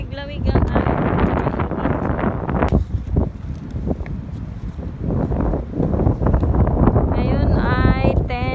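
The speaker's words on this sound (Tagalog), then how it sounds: "Lakas ng hangin, malamig-lamig ang hangin." Strong cool wind at Formal Park in Abu Dhabi: steady, loud wind buffeting the microphone with low rumble, while people talk over it at the start and end.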